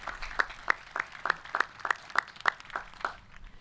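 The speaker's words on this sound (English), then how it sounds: "Let's give them a round of applause, even though they're in different sessions today." Applause at a 2020 high school graduation ceremony at South Salem High School, a few scattered hand claps repeating at a steady rhythm over a soft crowd patter, moderately faint and without talk.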